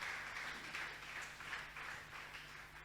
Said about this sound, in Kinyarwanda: reka mukomere amashyi menshi cyane Zafu